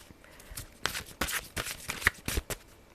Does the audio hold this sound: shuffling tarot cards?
yes